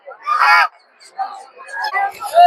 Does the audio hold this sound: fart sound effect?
no